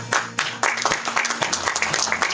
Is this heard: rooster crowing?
no